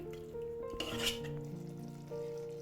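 A spoon scrapes and clinks through masala with coriander powder and garam masala in a pan, soft frying beneath, quiet and close with a brief louder clatter midway.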